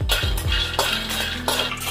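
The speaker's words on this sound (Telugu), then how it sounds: "పల్లీలు వేయించుకున్నాం. లో ఫ్లేమ్లో పెట్టుకొని ఇట్లా వేయించుకోవాలి." Peanuts roasting in a pan on a low flame, stirred with a utensil, give repeated scraping and clattering strokes over a faint steady hiss, with no talking.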